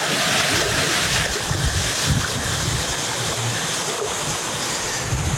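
Gusty wind buffets the microphone beside the Rhone river, with rushing water and current sloshing beneath in a constant loud roar, no voices present.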